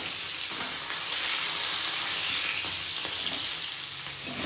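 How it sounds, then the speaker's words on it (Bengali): Masala spice paste sizzles steadily in a hot pan as it is sautéed for a fish-head curry, a dense, continuous frying hiss with faint stirring scrapes and no talking. "আর এইদিকে দেখো মশলাটা কষে এসছে"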